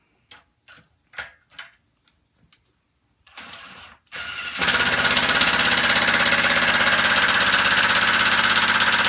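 A Milwaukee 2754 3/8-inch Fuel impact wrench set to speed 1 drives into steel. A few short taps and a brief whir come first, then it settles into loud, continuous rapid hammering that runs to the end.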